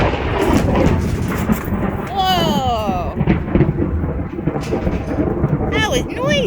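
Loud thunder rumbles and crashes through a storm, a long heavy roll lasting several seconds with rain noise underneath, while a person exclaims and short voiced sounds rise over it.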